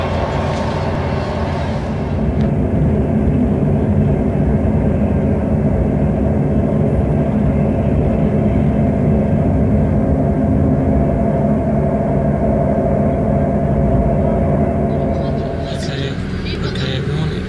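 Steady low rumble and drone fill the cabin of an Arriva Trains Wales class 158 diesel unit, number 158834, running between Wellington and Shrewsbury; a continuous, loud ride noise that eases slightly near the end.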